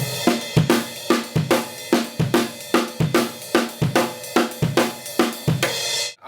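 Drum kit groove from a song's solo, snare and crash cymbal hits accented by bass drum, a steady run of about eighteen sharp strikes with sustained cymbal shimmer, close and loud, cutting off at the end.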